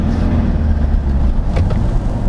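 A Mitsubishi Strada pickup truck drives along winding roads, its engine and road noise forming a loud, steady low rumble heard from inside the cab, with no talk.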